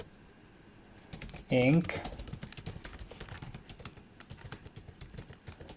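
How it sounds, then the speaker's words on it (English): Fingers tap quickly on a computer keyboard in a steady run of close, crisp keystrokes, with a short spoken word breaking in early. "let me type out this text"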